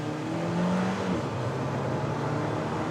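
A car in race mode with traction control off accelerates hard off the line in a launch control run, engine tone rising steadily and loud from inside the cabin, no voices.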